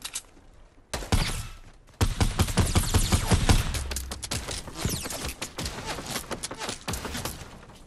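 Video game gunfire in a fast exchange: a single shot, then a loud dense volley of rapid shots that gradually thins into scattered bursts.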